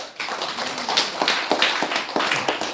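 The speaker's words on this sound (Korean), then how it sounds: "박수로." A church congregation at a Sunday morning service in Yeoju breaking into applause for a student receiving a Scripture memorization award: a short burst of scattered, uneven claps from a modest crowd, fairly loud and nearby.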